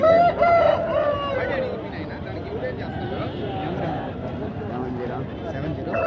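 A rooster crows loudly at the start of a Sunday poultry market in Piler, then the sound fades into a busy hubbub of voices and market chatter.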